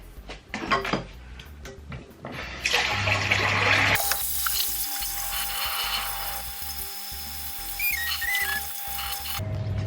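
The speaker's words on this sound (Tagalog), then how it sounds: "Kailangan mo talaga siyang i-sprayhan ng water." Raspberry plant roots being sprayed with water to wash off soil. A steady hiss of spray comes after some earlier handling noises, and a faint tone and mechanical clicks run underneath. Nobody speaks.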